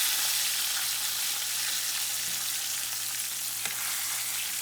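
Lake trout fillets pan frying after being flipped, a steady close hissing sizzle of hot oil with a low hum beneath and a faint clink near the end.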